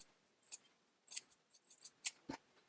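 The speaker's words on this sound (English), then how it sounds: "trim the seam allowance down to a 1/4 inch or 6 millimeters" Fabric scissors trimming a sewn seam allowance on an apron, a few quiet crisp snips spaced irregularly, close up in a near-silent room.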